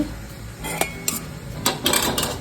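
A spoon stirs tomato idiyappam in a pan, producing several irregular scraping clinks and taps at close range over a low background hum.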